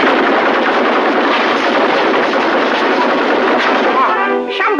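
Rapid bursts of cartoon gunfire crackle almost nonstop during target practice in a 1937 Betty Boop cowboy cartoon, loud and dense, with a few brief vocal sounds near the end.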